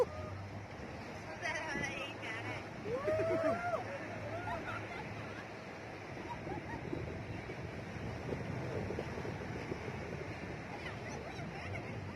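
Sea waves wash and surge under strong wind buffeting off Goa, with a boat engine droning and faint distant chatter throughout.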